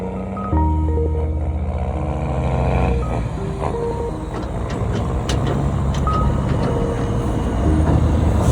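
A truck moves along in Jamaica, its engine a steady low rumble throughout, with tonal beeping and mechanical clatter mixed in and no talk.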